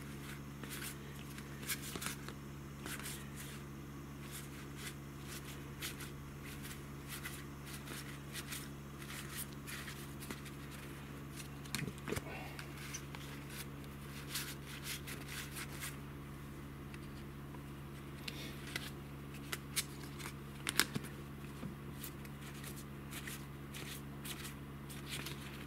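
Old Pokémon trading cards from an opened 300-yen block are handled and shuffled, giving a steady soft papery rustle with small flicks and slides throughout, faint and close over a low background hum.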